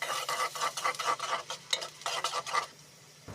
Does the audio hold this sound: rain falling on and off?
no